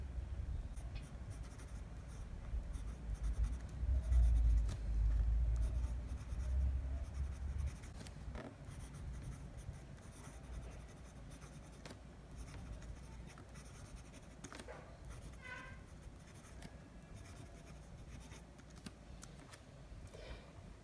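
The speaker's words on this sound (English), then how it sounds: "we'll just do a quick writing sample" TWSBI Eco fountain pen with a broad nib writing on paper, a faint, close scratching with rhythmic strokes and small taps continuing steadily, with low rumble early on.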